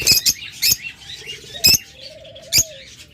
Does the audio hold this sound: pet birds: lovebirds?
yes